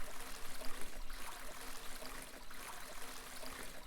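Water streams steadily from a watering can onto crops in a farming video game, a continuous soft splashing trickle with slight pulsing, alone and moderately close.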